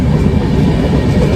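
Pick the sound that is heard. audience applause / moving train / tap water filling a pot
moving train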